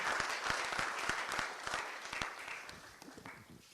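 Audience applause welcoming a guest at an International Day of Yoga award ceremony in London, a steady crowd clapping with some louder individual claps that gradually fades.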